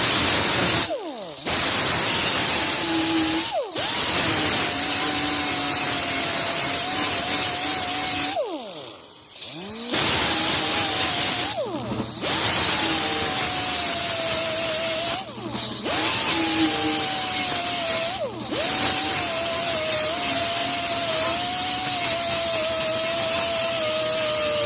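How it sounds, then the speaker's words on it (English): A green sanding disc on a grinder grinds a motorcycle front fender for a 1991 Sportster build, a loud harsh hiss with a whining tone, broken by several brief pauses as the tool lifts off, no talking. "But I'm going to finesse it all out with this. So green sanding disc."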